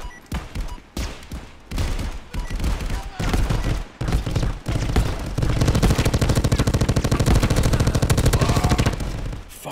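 Rapid machine gun bursts in a Call of Duty Modern Warfare VR mod, loud and close, with scattered single shots early on, then a long sustained stream of automatic fire.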